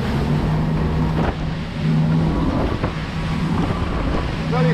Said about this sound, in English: we'll give her a pistol, see what she'll do